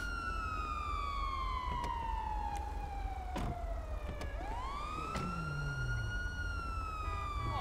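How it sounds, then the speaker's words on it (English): Police car sirens in the video game GTA 5, wailing and sweeping in pitch, with a second siren joining partway through over steady engine rumble. No one speaks. "Go ahead and kill the sirens."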